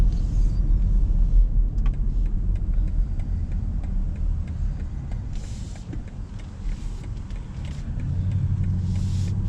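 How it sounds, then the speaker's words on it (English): A 2021 BMW X7 engine hums steadily with low road rumble while driving, a constant close drone with faint clicks and ticks over it. "And the engine sound is enhanced as well."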